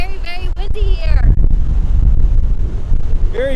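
Strong gusty wind buffets the microphone at Ocean Beach in San Francisco, a loud continuous rumble, with brief speech at the start and a voice again at the end.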